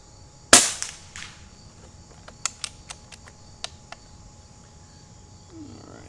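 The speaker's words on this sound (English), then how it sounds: "Brian, this is looking really good at that speed, shooting slugs like that." An Umarex Gauntlet 2 air rifle fires a slug outdoors at night: one loud sharp crack, followed by several quick mechanical clicks of the action, with crickets chirping faintly in the background.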